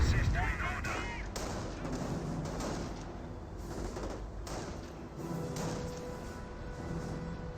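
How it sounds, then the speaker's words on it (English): Calliope rocket artillery fires in the Company of Heroes World War II strategy game, a rapid series of thumping launches and explosions that rumble on steadily. A commentator's voice runs underneath. "More Calliope rockets ring on in."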